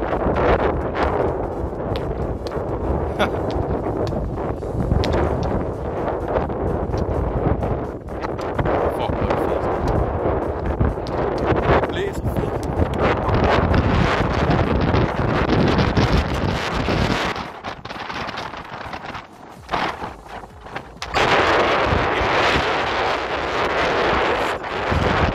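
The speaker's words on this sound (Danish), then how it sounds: "Nej, hvor det blæser." Strong wind buffets the microphone outdoors during a fireworks session, a loud continuous roaring rumble with gusts, briefly easing near the end, no talking.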